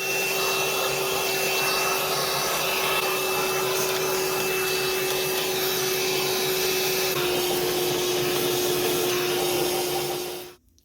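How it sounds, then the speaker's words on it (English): A vacuum cleaner running steadily and loudly while cleaning the inside of a 1950s Toshiba index typewriter, a constant whine held for about ten seconds before it cuts off abruptly. "do a little vacuum in here and see what we got."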